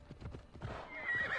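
Horse hooves clip-clopping at a walk in the Assassin's Creed Odyssey video game, with a brief whinny, a steady rhythmic plodding heard fairly close and alone.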